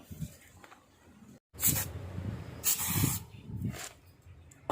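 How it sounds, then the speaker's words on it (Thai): A homemade refillable, air-pressurised spray paint can sprays paint in two or three short, loud hissing bursts, with brief pauses and quieter handling sounds between them. "เดี๋ยวไปทำการลองฉีดพ่นสีกันเลยนะครับ"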